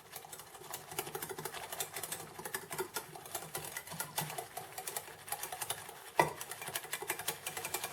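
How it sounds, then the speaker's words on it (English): Mushroom soup and milk are whisked together in a bowl, a quiet steady rhythm of quick light clinks and scrapes with one sharper knock near the end. "then just whisk that to mix it"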